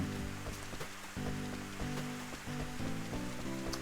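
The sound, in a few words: rain falling in the video game Rune Factory 3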